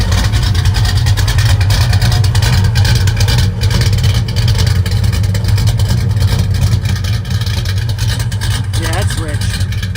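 A 482 Oldsmobile V8 in a 1971 Cutlass runs with a loud, steady low rumble heard from outside the car, with people talking over it.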